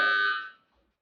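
A kitchen oven timer gives a single loud electronic beep that fades out within about half a second, leaving silence.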